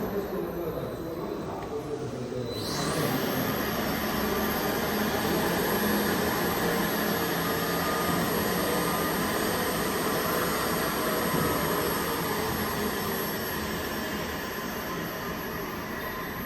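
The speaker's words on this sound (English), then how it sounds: "And we step on the accelerator. You can see that the axle is going on the other direction." A RAWSUNS electric axle system drives under acceleration in reverse gear, a steady mechanical whir with a rising high whine that settles into a sustained tone, loud and continuous throughout.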